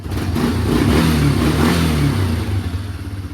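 A car engine with a fixed head gasket runs loudly and steadily close by, a rough idle with a slight rise in revs and some mechanical clatter.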